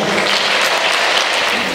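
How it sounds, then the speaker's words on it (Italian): An audience claps at a Milano-Sanremo cycling race presentation, giving a short burst of dense, even applause. "secondo me merita un applauso"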